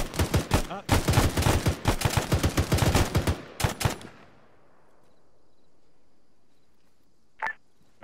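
Mounted machine gun fire in a military video game set in Kunduz, a loud, rapid close burst of about four seconds that cuts off into near silence, then a brief electronic blip near the end.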